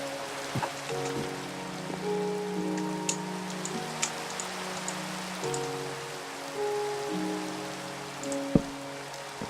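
Steady rain falls on a surface in a video game village beside an ocean biome, a continuous soft hiss with scattered drops, alongside sustained musical tones and no talking.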